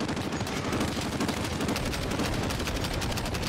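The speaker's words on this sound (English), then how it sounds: "I don't see who they're shooting at, dude." Sustained gunfire in the Call of Duty Modern Warfare campaign, with rapid overlapping automatic bursts forming a dense, loud, continuous barrage throughout and no talk over it.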